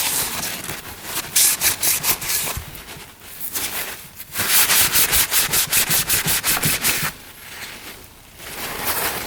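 A rag is rubbed vigorously over a gunked-up ATV carburetor, producing close, harsh scrubbing strokes in quick rhythmic bursts with brief pauses between passes.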